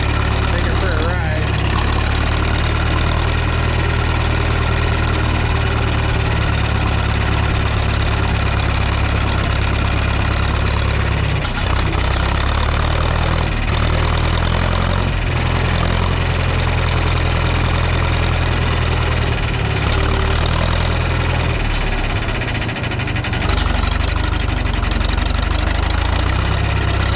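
A John Deere 3010 tractor engine runs steadily while the tractor drives in gear on a flat road, a loud, constant low chugging rumble filling the whole stretch with slight shifts in tone.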